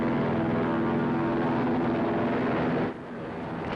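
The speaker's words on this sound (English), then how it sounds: "One of my planes is in trouble. He's going to crash." A loud, steady aircraft engine roar drones for about three seconds, then abruptly drops off and thins into a weaker, sputtering hum.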